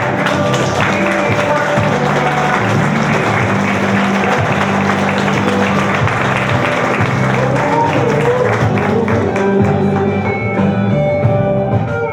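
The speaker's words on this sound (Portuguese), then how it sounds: "Palmas, por favor, para o nosso primeiro formando, Alailson da Silva Oliveira." Applause at a graduation ceremony of a recovery house honoring the first graduate, steady and loud throughout, mixed with music-like tonal bands and crowd noise.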